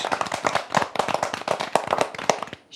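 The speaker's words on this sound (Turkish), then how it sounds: "Kendinize bir alkış" A studio audience on a Turkish children's TV show about proverbs and the Turkish language claps continuously, a dense run of individual hand claps close up with no speech.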